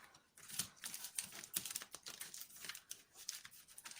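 Close, quiet riffling and flicking of a tarot deck being shuffled, irregular crisp snaps and slides with no talking.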